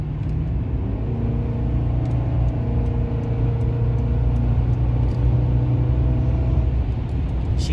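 Steady engine drone and road rumble from inside a car with a 4.6-litre V8 and modified exhaust cruising at 80 mph, low and continuous, with no voices.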